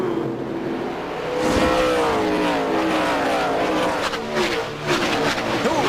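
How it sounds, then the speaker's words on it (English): NASCAR race cars at New Hampshire accelerate out of turn 1, engines whining and rising in pitch as several cars pass in quick succession, loud and fairly close, with tires squealing at moments. "let's watch these cars out of turn 1"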